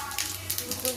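Dried red chillies and panch phoron sputtering in hot oil after fish heads have been fried, a steady close crackling sizzle with brief louder pops throughout.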